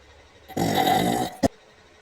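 A plush toy lets out a single drawn-out burp, loud and close for under a second, followed by a short sharp click, against an otherwise quiet background.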